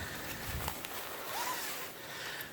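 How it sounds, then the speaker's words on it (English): A nylon or plastic zipper on a heavy sleeping bag is pulled in a steady, quiet rasp lasting a few seconds, close by and with no one talking. "It is one of those like nylon or plasticky type of zippers on there"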